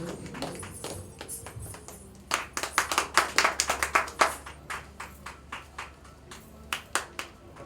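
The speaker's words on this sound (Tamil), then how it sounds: "ஆகவே நாங்கள் வழங்குகின்ற கரகோஷம் அவர்களுக்கு தங்களுடைய அந்த ஒரு திருப்தியை வழங்கும்." An audience claps at an opening ceremony where gifts are handed out, starting sparse, swelling into a loud burst of hand claps, then thinning to scattered individual claps.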